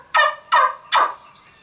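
A wing bone turkey call is sucked with kissing, smooching draws of air, giving three short, close, raspy turkey-like clucks evenly spaced, loud and alone.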